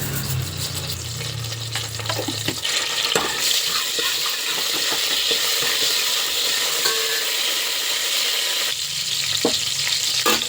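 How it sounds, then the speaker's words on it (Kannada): Mustard seeds temper in a couple of spoons of hot oil, giving a steady bright sizzle with occasional sharp pops and spoon scrapes, loud and close, with no voices. "ಒಗ್ಗರಣೆ ಮಾಡ್ಕೊಳ್ಳೋಣ ಸ್ವಲ್ಪ ಇದಕ್ಕೆ ಎಣ್ಣೆ ಹಾಕ್ಕೊತೀನಿ ಒಂದೆರಡು ಸ್ಪೂನ್ ಎಣ್ಣೆ ಒಂದು ಅರ್ಧ ಸ್ಪೂನ್ ಸಾಸಿವೆ"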